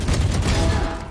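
Rapid gunfire from Valorant during a Game Changers APAC esports match, a dense close burst of shots running through about a second with no pause.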